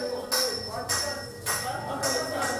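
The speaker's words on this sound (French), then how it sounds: "C'est le son de cloche qui a donné le top de la composition de l'examen du certificat" A handbell rings out repeatedly in bright, metallic bursts to open a primary school certificate exam, each peal close and loud, swinging in a steady rhythm of about four strokes.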